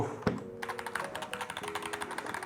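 Keys clack rapidly on a Corsair K70 MAX mechanical keyboard, a firm, dense run of close typing strokes after a single heavier tap, with no voice over it.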